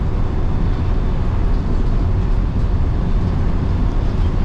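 A loud, steady bus engine drone rumbles continuously, with a dense low-end roar and no pauses.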